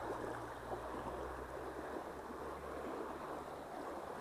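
A rushing mountain stream pours past close by, a dense, even roar of water that never lets up for the whole stretch, with no voices over it.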